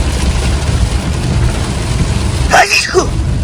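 Dense, loud rain from a downpour during a storm with lightning hissing steadily close by, with a voice cutting in briefly near the end.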